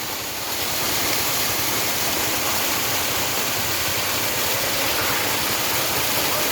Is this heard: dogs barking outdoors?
no